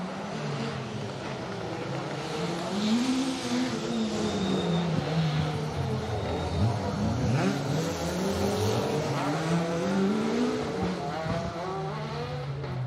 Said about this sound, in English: chasing down that awesome sounding Escort